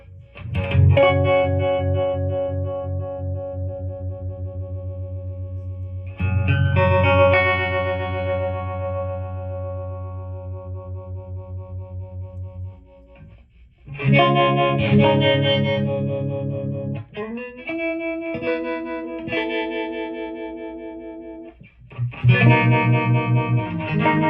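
Electric guitar chords from a humbucker ring out through a 1962 Fender 6G14-A Showman amp with a deep, slow, pulsing vibrato wobble, sustained and loud, with pauses between strums.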